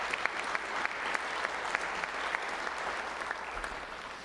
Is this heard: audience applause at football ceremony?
yes